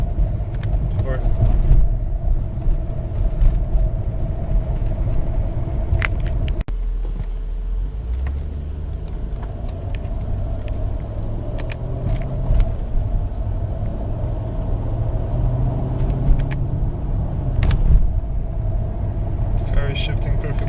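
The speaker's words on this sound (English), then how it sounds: "Shifting perfectly fine in manual mode." A Mercedes S55 AMG with a 722.6 automatic gearbox driving along, a steady low engine rumble and road noise with subtle shifts in tone as gears change, while someone talks throughout.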